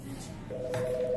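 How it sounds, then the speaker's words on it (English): A telephone rings at a workplace, a steady electronic tone starting about halfway through and holding to the end over a low room background. "The phone rang. Answer the phone."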